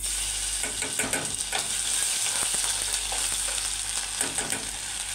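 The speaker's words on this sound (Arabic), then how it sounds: "وبعد ما قليت البطاطس والبتنجان اهو ما شاء الله حلوين اهو، هنزل بقى في مكانهم بنص معلقه توم اهو" Half a spoon of garlic sizzles and crackles in hot oil left from frying potatoes and eggplant, a steady close frying hiss with occasional stirring scrapes and no talk.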